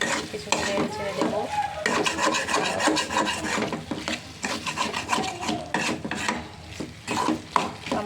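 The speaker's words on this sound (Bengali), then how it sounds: "টমেটোটা দিয়ে অনেক ভালো করে একটু নেড়ে ছেড়ে নেব।" Steady scraping and stirring of tomatoes in a pan with dried shutki fish, a wooden spoon rasping repeatedly against the pan over a soft sizzle, close and continuous, no talking.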